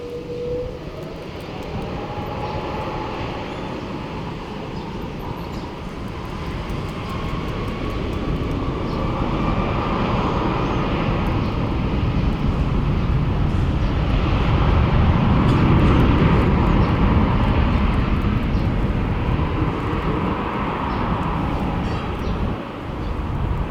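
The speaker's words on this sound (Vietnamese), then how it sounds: "mời mọi người chiêm ngưỡng pha cất cánh của chiếc Airbus A330 của hãng không Vietjet Air cất cánh" A Vietjet Air Airbus A330 takes off from Tan Son Nhat airport, bound on a long-haul route to Australia; a broad jet engine roar swells steadily and stays loud throughout, with no voices.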